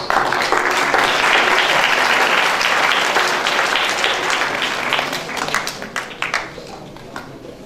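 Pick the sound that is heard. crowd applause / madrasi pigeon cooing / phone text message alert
crowd applause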